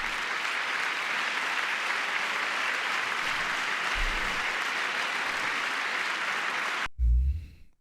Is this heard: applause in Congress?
yes